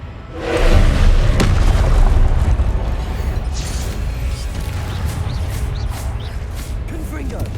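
Confringo fire spell explosions in Hogwarts Legacy combat: a loud, close boom with a heavy rumbling tail, followed by continuing crackle and battle noise, with voices in the mix.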